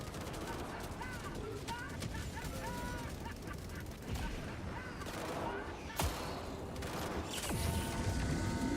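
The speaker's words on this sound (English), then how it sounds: "What are you shooting at, bro?" Gunfire in the Battlefield video game: rapid bursts and scattered shots under busy game noise, with a sharp loud blast partway through and a heavier rumble near the end.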